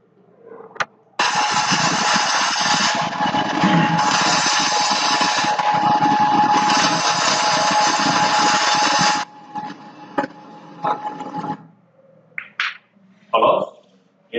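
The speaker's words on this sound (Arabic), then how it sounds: "ده بيعمل عمليه لحام اهو" An industrial welding robot at work gives a loud, steady buzzing hiss for about eight seconds. It then cuts off, leaving scattered clicks and mechanical knocks.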